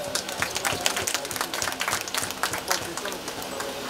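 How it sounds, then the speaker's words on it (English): Audience applause at a corporate event for a drone company, rapid, dense clapping from a crowd carrying on steadily with some voices mixed in. "Can we have a huge round of applause for the RRP group of companies?"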